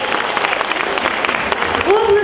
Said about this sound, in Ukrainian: Оплески нашим керівникам, людям, які нас підтримують.